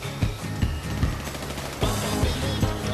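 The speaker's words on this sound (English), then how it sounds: "Where are they shooting me from?" Rapid bursts of automatic gunfire and single shots crackle loudly through a GTA V Online deathmatch, dense and continuous with sharp repeated cracks and no pause.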